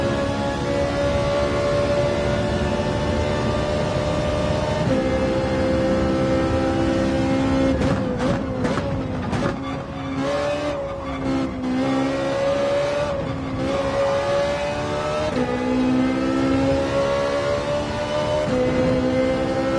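Race car engines on the Dragon Trail circuit in Gran Turismo 7, a loud, continuous droning roar with pitch shifts as cars rev and shift gears, several engines overlapping throughout with no talk.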